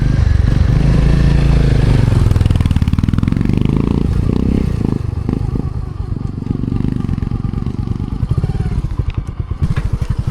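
A motorcycle engine runs loud and close throughout while stopped at a campsite, with a steady low rumble, some clattering and a few uneven revs toward the end.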